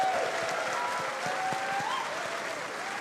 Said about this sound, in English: we're gonna give a little round of applause for our character artists